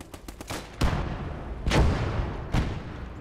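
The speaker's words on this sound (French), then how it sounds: "Vous avez pas marre de me bombarder avec ce canon là qui est censé être pété." Cannon bombardment in Call to Arms: Gates of Hell, including an 88 gun, lands as a quick run of sharp shots followed by three heavy booming blasts with long rumbling decays.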